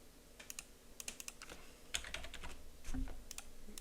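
Keys clatter on a computer keyboard as a command is typed into AutoCAD 2026 while drafting a floor plan, a quick irregular run of light taps heard close and fairly quiet, with no speech.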